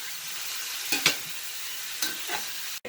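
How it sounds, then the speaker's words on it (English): Shrimp cooking in garlic butter in a skillet give a steady, fairly quiet sizzle, with a few brief stirring scrapes breaking through. "Let this shrimp cook for 2 minutes."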